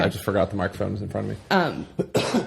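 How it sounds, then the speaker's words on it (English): A person coughs briefly in the middle of close-miked conversational talk, the cough short and sharp among spoken words. "Sorry for the cough noise."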